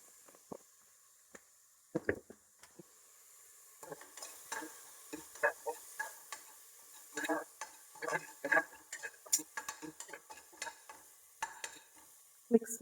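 Tomato and turmeric being stirred in a pan for mutton chops, a spoon scraping and tapping in irregular clusters of clicks against faint sizzling, close and moderately loud.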